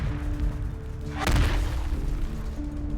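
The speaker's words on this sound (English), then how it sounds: "Outside the window, an ominous red glow lit up the night and was accompanied by faint, distant explosions." A muffled, distant explosion in the video game Love and Deepspace: one low boom swells and fades near the middle, set over a dark, sustained ambient drone.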